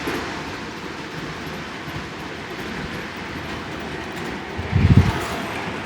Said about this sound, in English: maybe you can show them the sound features that the app and the Proto Sounds will do with the Great Northern engine.